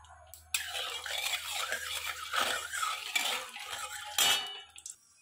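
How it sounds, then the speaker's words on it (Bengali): Salted oil stirred in a hot pan (kadai) before frying fish, light scraping and metallic clinks of a spatula against the pan, close and fairly quiet, no voices. "দিয়ে ভালো করে একটু নেড়ে নেব"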